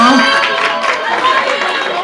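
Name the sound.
audience applause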